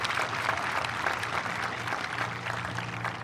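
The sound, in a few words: audience applause at a graduation ceremony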